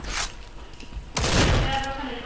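Gunfire in Hellreaver Arena, a hard-hitting gun firing two bullets per shot: a sharp early crack, then a loud heavy burst of shots with a ringing tail, and talking underneath.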